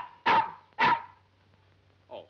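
A dog barks twice in quick succession, close and loud, in a classic comedy film scene, followed by a short faint whimper.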